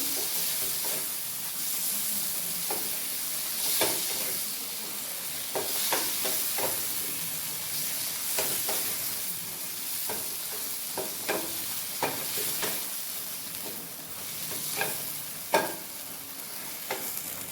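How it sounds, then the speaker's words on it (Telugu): Tomatoes frying in a pan with a steady close sizzle and hiss, broken by scattered spoon stirs and light scrapes over about eighteen seconds, no talk. "ఫ్రై అయిపోయినాయి టమోటాలు"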